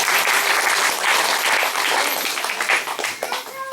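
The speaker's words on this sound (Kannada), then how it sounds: "ಎರಡು ಗಟ್ಟಿ ಚಪ್ಪಾಳೆ." A church congregation breaks into loud applause, a dense burst of many hands clapping together that thins toward the end, with scattered individual claps standing out.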